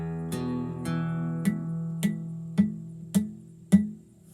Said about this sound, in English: If your finger is accidentally resting on a neighboring string, it'll probably sound like this.